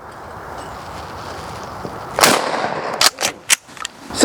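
A Mossberg pump-action shotgun fired at clay targets outdoors: several sharp, loud reports in quick succession, following a few seconds of quiet background.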